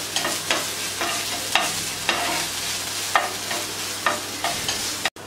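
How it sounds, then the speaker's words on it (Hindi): Ginger garlic paste being stirred into chicken pieces for a homemade Indian chicken fry, with repeated scraping, wet stirring strokes every half second or so against a steady background hiss, close and moderately loud, with no talking. "उसमें मैं थोड़ा सा अदरक और लहसुन का पेस्ट थोड़ा सा बस इसमें मिक्स कर लेती"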